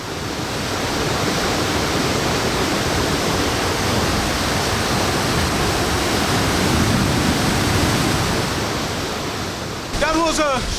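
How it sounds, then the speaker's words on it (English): Waterfall near Sohra plunging from a cliff into a deep blue pool, a dense, continuous roar of falling water that fills the whole stretch at steady loudness, with a brief extra rustle near the end. "It is a fascinating sight of the falls plunging below to a deep blue pool at the bottom"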